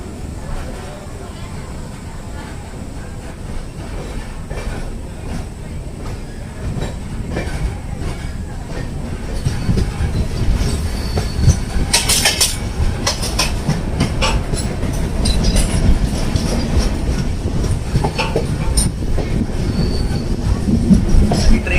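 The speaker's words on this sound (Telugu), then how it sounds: "ఆల్రెడీ ట్రైన్ అయితే ఖమ్మం నుండి డిపార్ట్ అయింది" The Godavari Express pulling out of Khammam, wheels clattering and squealing on the rails as the train gathers speed. The rumble builds steadily over the whole stretch, with faint voices in the background.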